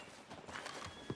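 Horse hooves in Red Dead Redemption 2: a faint, soft clip-clop of hooves at a walking pace with a low ambient bed, a few muffled steps and a slightly firmer thud near the end.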